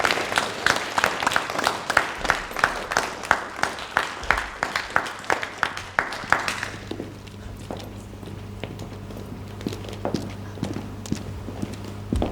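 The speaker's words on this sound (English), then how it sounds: "a round of applause for those two students, please." A school audience applauds students at an awards ceremony with steady, dense clapping for about six seconds, then it thins into scattered claps over a low hum.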